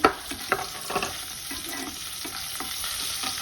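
Peanuts frying in hot oil in a pan for semiya pulihora, a steady soft sizzle with occasional louder crackles and stirring clicks, no talk.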